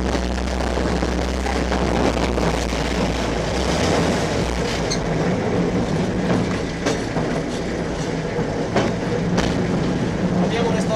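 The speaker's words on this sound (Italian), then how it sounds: "Il pulmino su cui ci troviamo, in gergo ferroviario si chiama draisino." Vintage draisine rail minibus with Fiat mechanics and a 1000 cc four-cylinder engine running along railway track, loud steady engine drone with rhythmic wheel clatter over rail joints and occasional squeals, while someone speaks over it.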